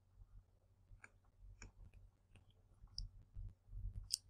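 Faint, sparse clicks of a computer mouse, a handful of light ticks spread across a few seconds against a quiet room.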